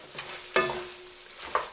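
Butter goes into a pan of mushroom orzotto and is stirred in: soft scraping strokes with a couple of sharper clacks of the spoon over a faint sizzle, close and quiet.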